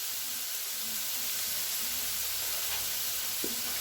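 Onions and bacon lardons caramelize in a frying pan, giving a steady close hiss of sizzling fat with a few faint clinks and soft stirring touches.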